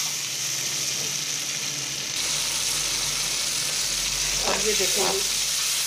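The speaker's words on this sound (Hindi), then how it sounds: "आलू और मसाला जो है वो अच्छी तरह से इसको हम भून लेंगे" Potatoes and masala frying in a pan for aloo tahari, a continuous loud sizzle with a few stirring scrapes toward the end, and a voice talking briefly over it.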